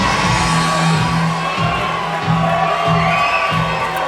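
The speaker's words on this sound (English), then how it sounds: "Big pop from the crowd." Crowd at a toe-to-toe fight show roaring and whooping loudly, with a rhythmic repeating pulse of cheers rising and falling in waves across the arena.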